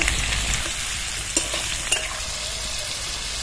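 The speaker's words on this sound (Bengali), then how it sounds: "সবজিটা পুরোপুরি ভাজা হয়নি হাফের বেশি একটু ভাজা হয়েছে" Vegetables for shukto, half-boiled and being salted, fry in a pan with a steady, dense hiss, close and fairly loud, with a couple of light clinks of a utensil.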